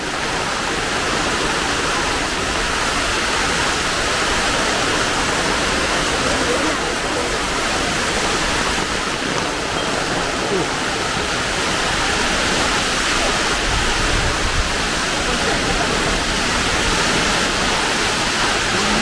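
Heavy monsoon downpour driven by gusting wind, a dense, steady roar of rain that stays loud and unbroken throughout, with no break or lull.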